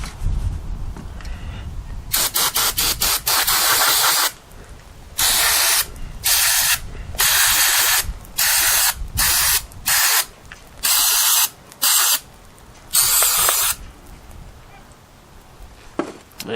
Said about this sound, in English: So, I'll just be spraying and spraying.